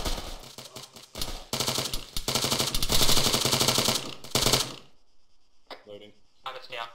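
Rapid automatic gunfire from a tactical shooter video game crackles loudly in sustained bursts, stopping abruptly before a few quieter clicks and shots near the end.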